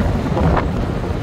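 A strong, hot wind blows on a street in Makkah near the Masjidil Haram, buffeting the microphone with a loud, constant low rumble throughout. No one speaks.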